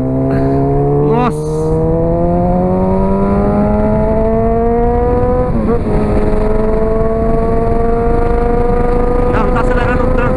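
Honda CB 1000R motorcycle revving and accelerating on a ride, steady rising engine tones with gear shifts, loud and close with wind rush, people talking over it.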